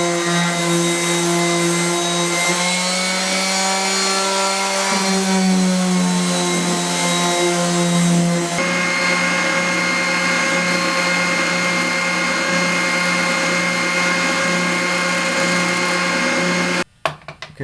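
An oscillating spindle sander sands wooden birdhouse parts, giving a loud, steady motor whine with a shifting pitch under the load, running close for about seventeen seconds before it cuts off abruptly.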